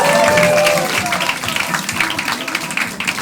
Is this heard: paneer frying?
no